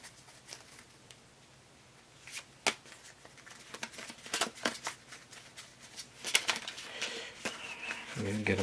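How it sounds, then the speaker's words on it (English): A deck of cards being shuffled at a poker game table, giving repeated brisk riffling and patter bursts that build in loudness toward the end, with faint room noise. "Get them shuffled, a lot of shuffling"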